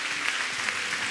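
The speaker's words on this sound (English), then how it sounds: "Give the Lord a big clap" A church congregation clapping for the Lord, a dense, steady wash of applause through the whole short stretch with no voices standing out.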